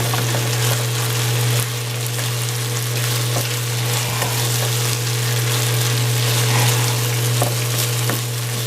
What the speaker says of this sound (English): add some sesame seed oil in there